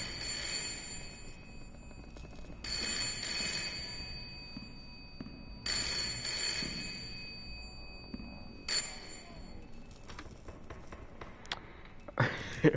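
An old telephone ringing inside the horror game Layers of Fear, bright metallic rings in repeated bursts about every three seconds, fairly faint against a low ambient hum, no talking.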